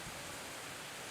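Heavy rain pouring steadily and loudly during a motorbike tour stop in Indonesia, a dense continuous hiss filling the whole moment with no voices.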